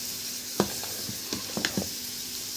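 A pot of bessara, an Egyptian fava bean dish seasoned with salt, pepper and a stock cube, being stirred: a few scraping strokes and soft clinks over a steady low sizzle, with no talking.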